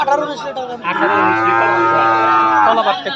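A cow at a cattle market lets out one long, loud, close moo lasting a couple of seconds, with faint background voices at the start.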